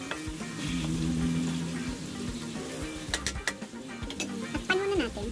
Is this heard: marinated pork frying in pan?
yes